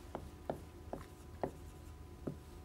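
A theorem is written on a board in short, separate strokes, five distinct scratchy taps spaced unevenly over a quiet room background, with no talking.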